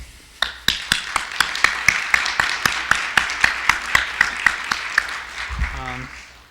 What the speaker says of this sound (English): So I would like us to give a big round of applause to Bill